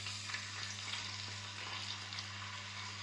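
A fairly large fish frying in a pan, soft steady sizzling and crackling oil heard close but quiet, with a low constant hum underneath and no talking.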